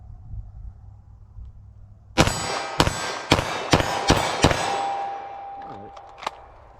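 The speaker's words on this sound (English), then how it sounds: "fire off some shots as fast as I think I can hit the target. So 9mm, let's see how I can do it with this." 9mm pistol fired rapidly at a target outdoors, six sharp cracks in quick succession with ringing metallic tails, a faint hum lingering afterward and one more crack near the end.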